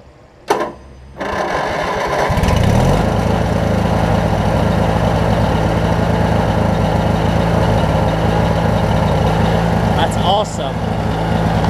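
A Craftsman mower with a Briggs opposed-twin engine cranks briefly, catches without choke and settles into a loud, steady running drone that continues to the end.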